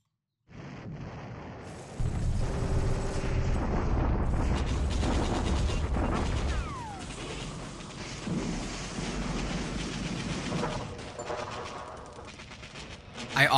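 Heavy rumbling bombardment in the wartime strategy game War in the Pacific, with booming blasts and crackling fire rolling continuously under one another, swelling at first, easing in the middle and surging again at the end.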